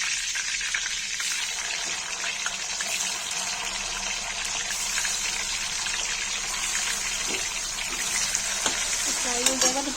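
Oil frying for a Kashmiri paneer and eggplant curry gives a steady, moderately loud sizzling hiss that runs the whole time, with faint clinks and a little background noise.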